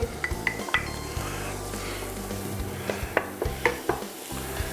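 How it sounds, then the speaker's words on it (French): Shallots sautéing in butter with a little oil in a saucepan make a soft, steady sizzle, broken by scattered clinks and scrapes of a utensil stirring against the pan, with no voices. "Je mets à revenir mes échalotes."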